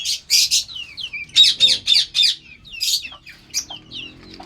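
A white pet bird, parrot-like, gives a rapid series of shrill, loud squawks and chirps close by, in bursts with short gaps, with no talking.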